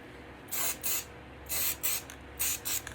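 An aerosol can sprays satin clear enamel protective coating in short, close hissing bursts, about five or six pulses of varying length over a faint background, with no talk.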